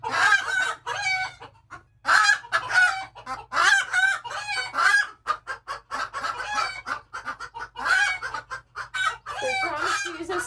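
Broody hens clucking and squawking in a coop, close and fairly loud, a busy run of overlapping calls with brief pauses.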